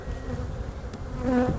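Honeybees buzzing at a split hive with brood and larvae, a steady, fairly close droning hum that swells slightly toward the end.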